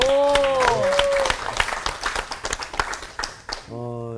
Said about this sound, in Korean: 박수 한번 하시죠